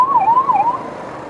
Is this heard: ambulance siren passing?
yes